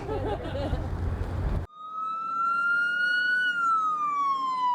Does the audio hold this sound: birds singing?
no